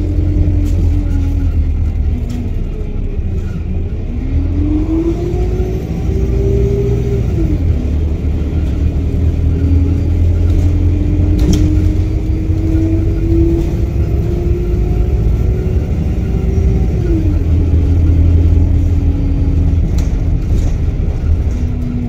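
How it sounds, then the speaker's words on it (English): A bus engine rumbles loud and close throughout, its low drone rising and falling as it arrives, with no talking. "oh, this is the bus coming."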